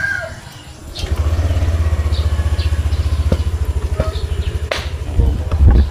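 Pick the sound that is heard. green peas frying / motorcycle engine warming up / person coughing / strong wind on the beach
motorcycle engine warming up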